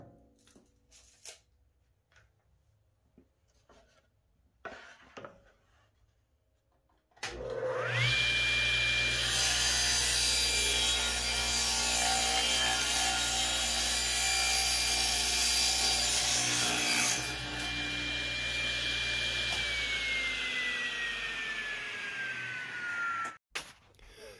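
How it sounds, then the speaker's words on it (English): Power saw cutting through a piece of recycled wood for a pipe clamp rack: after a few faint knocks, a loud steady whining cut runs continuously for about sixteen seconds, close by, then stops abruptly. "So I'm going to cut this piece at 14 inches and then I'm going to cut it right down the center"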